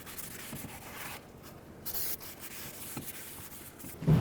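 Dry scrubbing and rubbing on the surface of a brake rotor during a front brake job on a 2003-2021 Chevrolet Express 3500, a quiet, uneven back-and-forth sanding sound with no talking.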